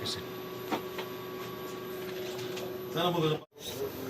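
A printing machine turning out wedding invitations runs with a steady mechanical whir and a few soft clacks, and a voice speaks over it near the end.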